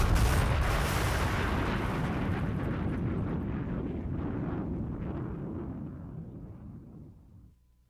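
A pressurized bulk truck tank bursts in a loud explosion at an oilfield site. A single heavy blast starts it, then a long rumbling roar slowly fades out over several seconds.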